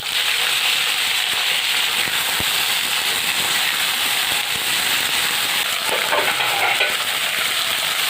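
Onion and drumsticks frying in a pan for drumstick curry, a loud, constant hiss and crackle close by, with occasional stirring scrapes and light clicks, no voices.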